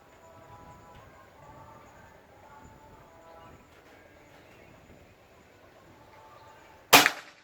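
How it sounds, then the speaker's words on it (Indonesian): A single sharp, loud shot from a PCP air rifle, a Bocap Pajero Gun full CNC Gen 5, cracks at the very end after several seconds of quiet ambient hum, with a brief ringing tail. "Tembakan ke 3."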